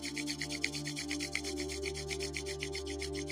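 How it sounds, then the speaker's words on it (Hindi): Two hands briskly rubbing together in a quiet relaxation session, a close, steady stream of rapid rhythmic friction strokes with no voice. "दोनों हाथों को रब कर लें"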